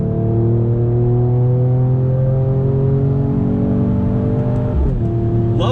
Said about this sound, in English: I want to give you a little acceleration test from a dead stop on the throttle